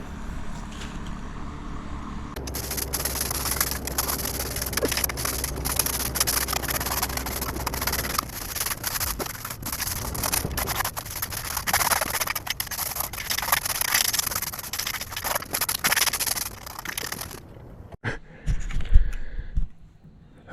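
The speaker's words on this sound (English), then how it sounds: "I am just going to hand rake this and try to get it as circular and round as we can." Gravel is hand raked into a circle around a ground stump site, giving a long stretch of close scraping and crunching strokes that stops near the end.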